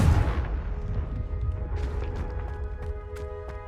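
A Confringo blasting spell explodes in Hogwarts Legacy, a heavy boom at the start that rolls off into a ringing, decaying tail with faint crackles, no speech over it.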